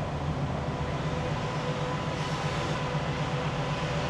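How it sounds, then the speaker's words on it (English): Simulated engine rumble from a Shelby Mustang Mach-E GT electric car, a steady, moderately quiet droning hum with a broad noisy texture, unchanging over several seconds and with no talking. "sound two is a rumble, but it's not quite as deep"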